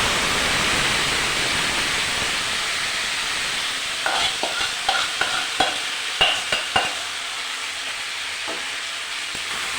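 Chicken stir-fried in a pan, a steady loud sizzle throughout with a run of sharp spatula scrapes and knocks clustered in the middle of the clip.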